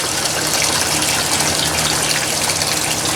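Water gushes steadily from a raised pipe into a garden pond, a loud, continuous splashing rush with no pauses and no voices.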